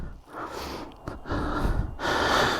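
After a ride on a two-stroke Husqvarna, a person breathes heavily in three close, loud bursts of gasping and snorting breaths with brief pauses between.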